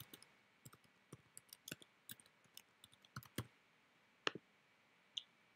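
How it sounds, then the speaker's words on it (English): Keys tapped on a computer keyboard while a game name is entered for an arcade machine mod, about a dozen quiet, uneven clicks in short bursts with gaps, close up and alone with no talking. "So I'm going to type this in."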